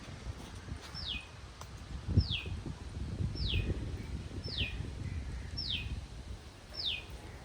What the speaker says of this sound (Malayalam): അപ്പോൾ ബാക്ക്ഗ്രൗണ്ടിൽ നമുക്ക് കിളികളുടെ കളകളാരവും ഒക്കെ കേൾക്കാം കേട്ടോ